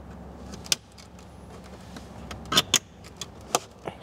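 Keys jangle in short metallic clinks and rattles while a glove box CD changer is pulled out of an Audi A4, A5 or Q5, with soft plastic clicks in a quiet car interior.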